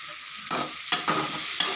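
Onions and tomatoes sautéing in a pan for tapioca stir-fry, a steady close sizzle with several rhythmic stirring scrapes breaking through, no voices.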